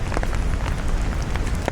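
Steady rain on a wet night in Manila, a dense broadband hiss of drops on surfaces with scattered louder splats, continuous and fairly close throughout, with no voices.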